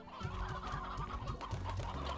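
Chickens in the video game Slime Rancher cluck steadily and close, a dense flock of rapid overlapping clucks over a constant game background.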